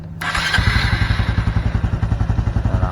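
A Honda Supra X 125 Fi motorcycle, already warm, is started with the electric starter: a brief crank, then the engine catches and settles into a steady, rapid idle putter, loud and close.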